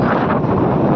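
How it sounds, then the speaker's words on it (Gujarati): Loud, roaring strong wind buffeting the microphone in a constant rush near the flooded Bhadar River, close and overwhelming for the whole moment. "કેટલો જોરથી પવન ફૂંકાઈ રહ્યો છે"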